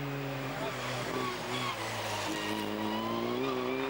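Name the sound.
Formula 4 race car at hill climb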